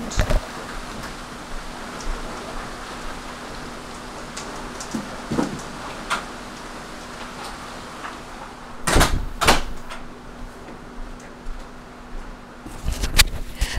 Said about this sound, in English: I think I might just close the door